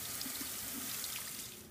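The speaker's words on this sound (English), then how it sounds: "you'll let the water run over it for several minutes, making sure that the yarn gets good and soaked" A tap runs steadily over yarn soaking in a sink, a soft continuous rush of water with faint splashes that thins out slightly toward the end.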